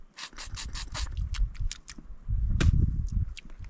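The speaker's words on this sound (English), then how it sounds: "just crack a little bit of the shell" Cooked crawfish shell cracked by hand outdoors, a close series of sharp, rapid crackling snaps followed by a louder crunching burst.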